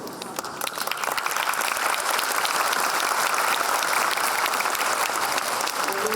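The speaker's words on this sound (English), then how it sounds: "Let's give them a big applause." Audience applause at an event at Tzu Chi University, a dense, steady wash of clapping that swells quickly and holds loud and even throughout.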